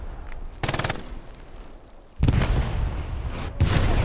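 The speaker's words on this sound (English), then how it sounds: "They're both just shooting." Gunfire in Hell Let Loose on the Foy map: a quick rattling burst of automatic fire, a pause, then longer loud sustained volleys and booms, close and heavy with no voices.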